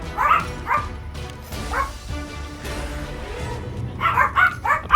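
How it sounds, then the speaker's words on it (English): Several dogs barking indoors in a room, a series of sharp yips and bow-wows coming in short bursts, loud and close, with low background noise between them. "Let me let them out of the room so they don't keep barking real quick."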